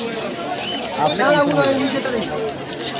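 Pigeons at a rural market stall in Uluberia during the monsoon, sold in pairs: a soft cooing chorus sits close by beneath steady, loud conversation between people bargaining.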